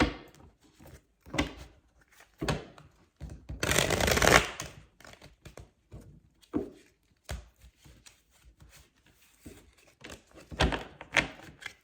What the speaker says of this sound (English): Let's do one more shuffle for Librans.